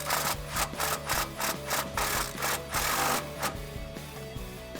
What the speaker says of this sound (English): I'm gonna go ahead and tighten up that bolt.